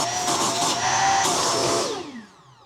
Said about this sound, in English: we're going to take this filter and we're going to just do a quick vacuum on it